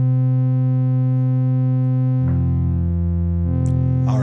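An aggressive psytrance bass synth built in Anukari, with its microphones' isotropy distortion raised, drones as a steady, loud harmonic-rich tone, dropping in pitch midway and shifting again near the end, heard alone without any voices.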